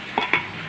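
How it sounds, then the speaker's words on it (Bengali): Potato pieces dropped into a pan of snail masala being fried, giving two quick scraping stirs over a faint steady sizzle. "আলুটা দিয়ে দিলাম"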